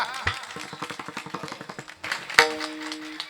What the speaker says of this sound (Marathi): वाह वाह, वाजा टाळी वाजा.